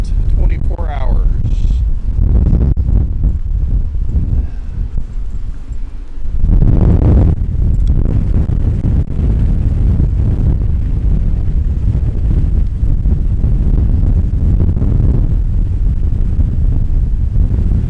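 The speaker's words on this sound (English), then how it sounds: "We're about 48 hours into the Tropical Storm Nicole wind field here." Tropical Storm Nicole wind roars continuously against the microphone, a steady heavy buffeting with gusts, and a voice talks beneath it.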